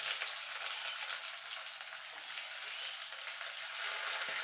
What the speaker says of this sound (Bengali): পেঁয়াজের গায়ে কালার আসা পর্যন্ত একটুখানি ভেজে নেব।